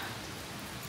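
Steady rain falling outdoors, a soft continuous hiss of drops, fairly faint and even, with no voices.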